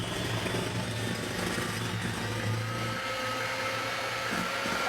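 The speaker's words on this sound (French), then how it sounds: "Alors, donc ensuite, je mélange." An electric mixer whirs steadily while blending a raspberry charlotte mixture in a bowl, a continuous loud motor drone with a slight shift in tone partway through and no talking.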